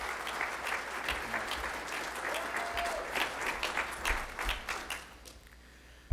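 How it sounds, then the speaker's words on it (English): Applause from the audience at the Northville State of the Community event fills the hall, steady and dense clapping throughout, with a brief moment of speech near the middle. "how about a big round of applause for my friend, Brian Turnbull"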